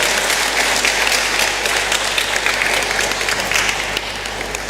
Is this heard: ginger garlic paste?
no